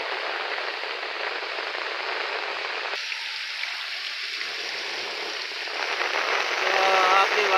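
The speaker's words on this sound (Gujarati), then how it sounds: "અહીંયા એટલો વરસાદ છે ભાઈ" Very heavy rain pours down in Keshod, Junagadh, a dense, continuous hiss of water hitting surfaces that swells louder toward the end, while someone talks over it.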